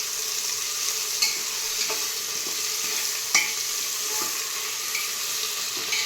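Onion and tomato frying in a pan for masala rice give off a constant close sizzle, with a few sharp stirring taps from a spoon against the pan.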